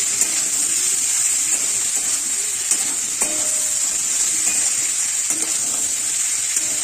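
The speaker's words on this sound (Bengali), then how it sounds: "সবজিগুলোকে খুব ভালো করে কষিয়ে নিতে হবে" Mixed vegetables sautéing in a pan for a Bengali-style vegetarian dish, a continuous close sizzle with occasional scraping and stirring knocks of a spatula.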